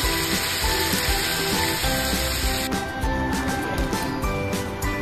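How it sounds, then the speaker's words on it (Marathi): Chicken banjara kebab sizzles on a low gas flame, a close, continuous frying hiss. The sound grows a little softer and more uneven after the first few seconds. "मंद गॅसवर शिजवून घेणार आहोत।"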